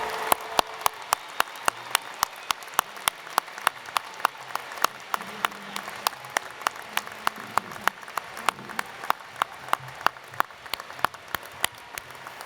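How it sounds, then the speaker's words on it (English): A graduation commencement audience at the University of Arkansas claps for new doctoral graduates, sounding as sparse, sharp individual claps spread through a large hall over a low, rain-like wash of broader applause, with no talk. "Would the audience join me in applauding our newest EDDs, PhDs, and DNPs?"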